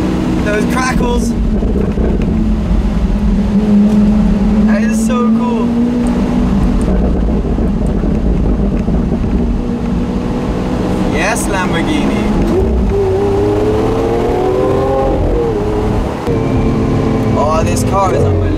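A Lamborghini Aventador's engine drones and rises in revs with sharp pops and crackles from the exhaust, loud and steady under wind noise while people talk over it.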